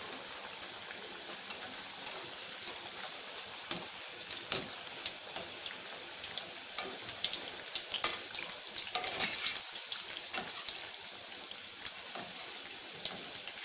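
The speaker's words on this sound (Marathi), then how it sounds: "स्लो वरती आपण थोडे डीप फ्राय करून घेऊया" Palak corn pakoda deep frying in oil over a slow flame, a steady soft bubbling sizzle with scattered crackles and pops throughout, fairly quiet and close.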